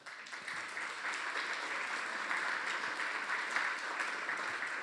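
An audience applauds Henry Brady at a public talk, a steady, dense wash of clapping that holds at even strength for several seconds with no voices over it.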